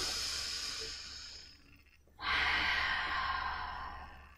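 A long, deep exhale through the mouth tapers off, followed by a short pause and then a strong deep inhale, close and breathy with no talking.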